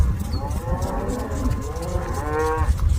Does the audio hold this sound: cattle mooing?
yes